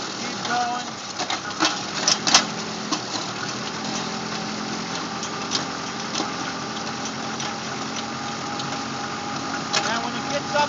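A tractor-driven PTO post hole digger bores into rocky ground, the engine running at a steady drone with clanks and knocks from the auger striking stones, while someone talks over it.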